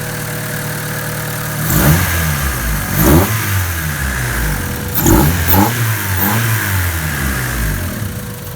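A turbocharged Honda Civic engine running after a fuel pressure adjustment, idling close and loud, then revved in several sharp bursts that rise and fall back to a steady idle.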